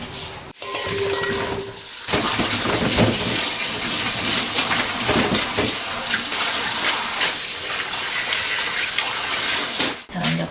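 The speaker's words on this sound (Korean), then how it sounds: "이렇게 다 따듬었으면 물에다가 이제 씻어주시면 돼요" Trimmed whole garlic cloves being rinsed under a steady stream of running tap water, a continuous loud splashing and gurgling that fills the clip after a brief pause near the start.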